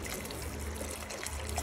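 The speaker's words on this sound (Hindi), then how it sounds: "तो सारा पानी हम इसमें थोड़ा थोड़ा करके ऐड कर देंगे" A milk, water and sugar mixture is poured gradually into a pan for halwa, giving a soft, steady trickling stream that is close and fairly quiet.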